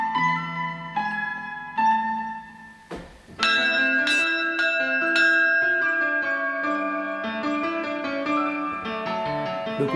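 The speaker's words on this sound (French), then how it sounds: "Le coup de cloche est impératif." A school bell rings out loudly and close by, sounding several clear, sustained metallic strikes. A short break follows, then a fuller burst of overlapping, lingering tones that hang in the air.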